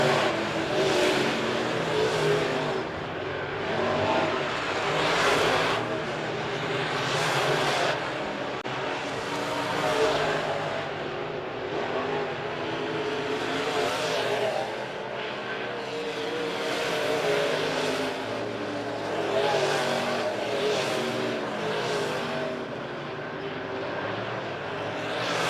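Race cars circle Monett Motor Speedway as the leaders catch a lapped car, with engines rising and falling in a steady rhythm of repeated passes, some near and loud, some farther off.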